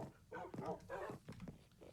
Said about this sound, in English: So yeah, these are all my dogs.